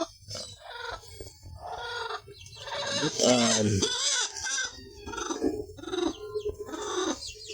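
Hens cluck and squawk up close in uneven bursts, with a person speaking briefly among them.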